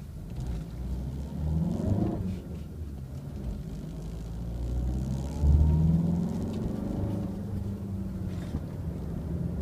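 Volkswagen Tiguan 2.0 TDI 115 hp in two-wheel drive driving off-road with wheels slipping, a steady low engine rumble with wind noise and a swell of revving midway, moderately loud and without talk.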